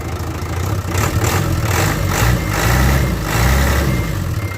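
Hino H07D six-cylinder diesel with an inline injection pump, fitted to a surplus Japanese fire truck, idling close by with a steady low throbbing rumble and slight swells in loudness.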